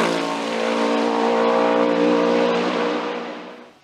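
Norma M20 FC sports prototype with a 4-litre BMW engine racing up a hill climb course, its loud sustained engine roar holding steady at high revs for a few seconds before fading slightly as it passes.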